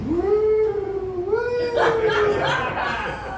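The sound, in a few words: voice imitating a horse noise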